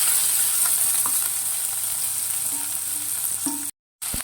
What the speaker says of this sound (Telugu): నెక్స్ట్ ఇవి ఫ్రై అయ్యే విధంగా చూసుకోవాలి